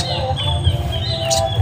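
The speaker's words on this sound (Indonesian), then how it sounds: "Ada suara burung sikatan Jawa juga" Bright Javan flycatcher chirps and short tweets repeat over a steady background hum from a nearby wedding party, fairly close and moderately loud.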